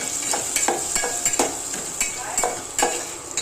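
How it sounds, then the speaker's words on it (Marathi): Turmeric and homemade masala frying in oil for a moong dal curry, a loud steady sizzle with a regular rhythm of spatula scrapes against the pan, about one every half second, close up and with no talking. "आता हे मसाले आहेत ना चांगले फ्राय होऊन द्यायचे तेलामध्ये"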